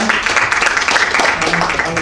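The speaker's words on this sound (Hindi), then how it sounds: "जोरदार तालियां" Loud audience applause fills a community hall at a youth ceremony, a dense, continuous patter of many hands, with voices mixed in.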